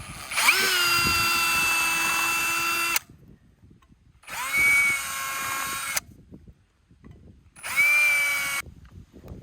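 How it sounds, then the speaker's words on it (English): A power drill in low drive whines in three separate bursts while pre-drilling wood for a pergola ledger, each a few seconds long with short pauses between, close and loud over faint background. "So I'll actually pre-drill."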